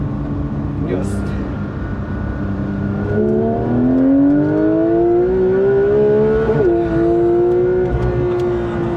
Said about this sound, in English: So naturally aspirated flat 6 at the top end is a magical place to be.